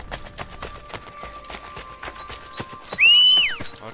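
A horse in Assassin's Creed Brotherhood clip-clops across the first three seconds with a steady run of hoof taps, then lets out a loud, close neigh near the end.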